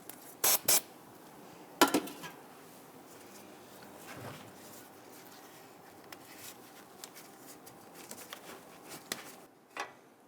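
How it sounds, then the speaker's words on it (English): Solvent sprays into a rubber exhaust hanger grommet under a 2011-2023 Dodge Charger in a few short, sharp hissing bursts near the start. After the spray, faint taps and handling noises follow in a quiet workshop. "We're going to spray a little bit of solvent inside the rubber grommet"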